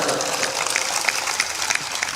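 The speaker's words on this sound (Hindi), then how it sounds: "जोर से ताली बजाया करो।" Applause from a seated audience at a Hindu spiritual discourse by Sant Shri Asang Dev Ji Maharaj, a steady dense patter of many hands clapping at moderate volume for about two seconds.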